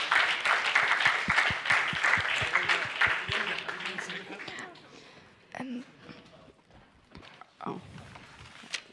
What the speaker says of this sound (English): Let's give them all a warm applause